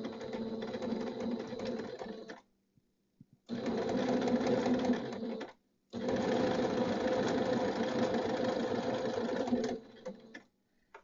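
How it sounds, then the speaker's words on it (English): A sewing machine stitches fabric while mitering a corner for a patch pocket, running in three loud, steady bursts of a few seconds each, separated by short pauses. "Put your needle down and begin to stitch, remembering to only do a couple, and then we're going to back stitch."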